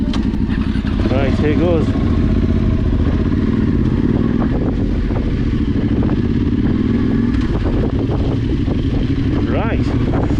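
A motorcycle rides through rutted winter ground, its engine droning loud and steady with rattles and clatter as the bike bounces along. A rider speaks briefly over the engine noise.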